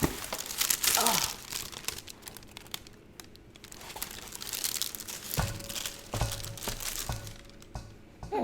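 Loud crinkling and tearing of paper packaging from a sneaker box up close, rustling in bursts as it is pulled apart, with a few brief thumps.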